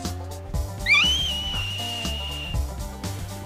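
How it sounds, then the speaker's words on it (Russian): A high, sliding whistle in the style of the Li people rises sharply and then holds a long steady tone, heard over rhythmic music with a low pulsing beat. "Свист народа Ли."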